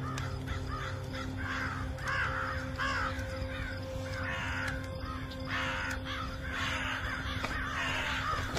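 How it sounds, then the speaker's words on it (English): Crows caw repeatedly in a loose, overlapping rhythm against a steady low background hum, several birds calling fairly near, no speech. "What's with all these crows?"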